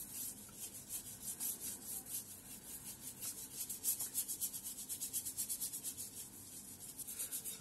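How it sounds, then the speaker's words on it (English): Brush scrubbing light-colored oil paint onto a seascape canvas, a soft close rhythmic rubbing with quick repeated back-and-forth strokes, fairly quiet and alone. "I'm just gonna put some of this light color back on here. Just gonna scrub this in."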